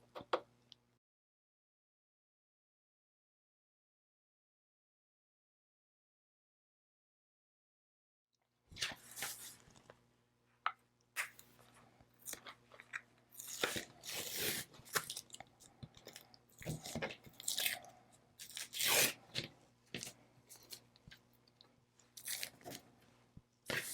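A Cricut Maker with a deep point blade cuts candy corn earrings. After a long silence comes a close run of irregular clicks, ticks and crunchy scraping with a faint steady hum underneath.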